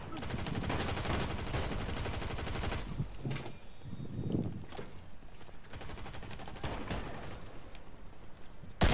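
Rapid gunfire from a shooter video game, bursts of shots crackling fairly steadily throughout amid game noise, with a voice talking over parts of it.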